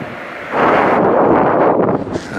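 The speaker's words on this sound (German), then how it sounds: "der Wind bläst hier deftig, kräftig, heftig, würde ich sagen" Strong wind at Möhnesee lake roars into the microphone as a sudden loud, rough buffeting gust that starts after a quieter moment and keeps gusting unevenly, with no voices.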